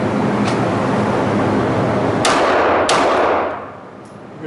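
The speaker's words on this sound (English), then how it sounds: "Let me show you where those 2 shots actually went." Two pistol shots fired in quick cadence during training at an indoor shooting range, each a sharp loud crack with a brief echoing tail, the second coming well under a second after the first, over steady ventilation hum.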